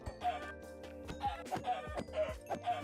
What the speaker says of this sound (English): I'm just going to kill the rest of the chickens that I find.